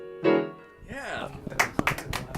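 Scat-sung jazz vocal notes fade out, then a few sharp, close claps break out and continue in a loose, uneven burst of small-group applause, with some voice sounds in between.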